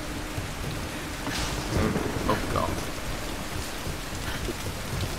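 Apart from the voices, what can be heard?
rain storm in the video game Tomb Raider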